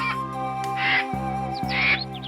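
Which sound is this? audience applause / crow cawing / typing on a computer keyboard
crow cawing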